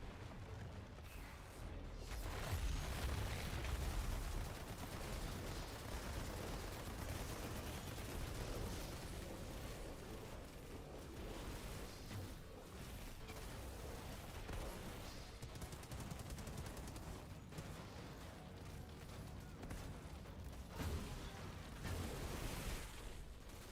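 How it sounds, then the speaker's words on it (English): Rifle gunfire in Outriders rattles as dense, continuous rapid shots mixed with explosions and combat clatter, a steady loud barrage running throughout. "Let's do another kill with that rifle."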